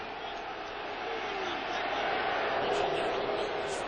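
Football crowd at Soldier Field during a Lions at Bears game, a dense, steady roar that swells slightly toward the end, heard as a broadcast wash of many voices.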